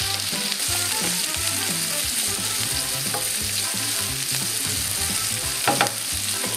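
String beans fry in a pan with a constant, close sizzle and crackle. Repeated low scraping or stirring thuds run under the hiss, and a sharper clatter comes near the end.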